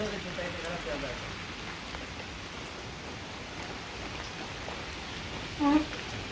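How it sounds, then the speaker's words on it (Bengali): Rain falls during a storm in a Bangladeshi village, a soft, steady hiss of drops on surfaces that continues evenly throughout, with faint talk near the start and a brief sharper knock near the end. "এই যে কিরকম ঝড়ি আর বৃষ্টি শুরু হয়ে গেছে।"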